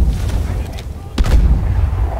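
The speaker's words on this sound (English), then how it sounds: "this is the perfect time to throw a ton of grenades" Grenade explosions in Call of Duty Advanced Warfare: a dull rumbling blast builds over steady low battle noise, with a second sharper burst near the middle that swells into a sustained boom, all fairly loud with no talking.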